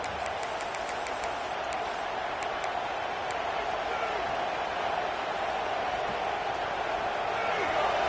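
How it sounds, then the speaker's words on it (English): A stadium crowd at a football game keeps up a broad, sustained roar, loud and constant throughout, with a few faint high whistles or cheers over the top. "The roar of the crowd trying to fuel this defense to keep them pinned in their own end"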